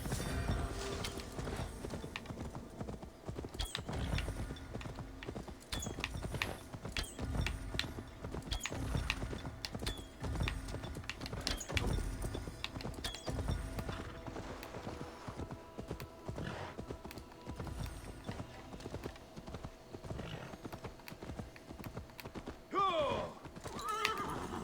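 Horse in Assassin's Creed Valhalla gallops with steady clip-clop hoofbeats and loud whinnies, game music and effects underneath, with a short high neigh near the end.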